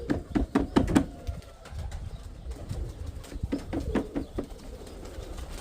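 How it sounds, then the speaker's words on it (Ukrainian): A pigeon coos in low, throaty repeated phrases, close and fairly quiet, in two bursts separated by a brief pause. "от ця голубочка сьогодні кидаю її з утра красавиця"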